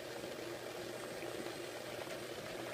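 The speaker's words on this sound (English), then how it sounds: "it's really coming to the beginning of a rolling boil" One quart of water on an induction cooktop nears a rolling boil, giving a steady, close bubbling hiss with small irregular pops throughout.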